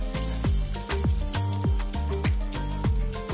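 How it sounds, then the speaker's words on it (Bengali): Egg-soaked bread fries in a pan and gets turned over, a steady close sizzle with frequent crackling pops and no talk. "ব্রেডটাকে খুব ভালো করে আস্তে আস্তে এপিট ওপিট করে ভেজে নেবেন"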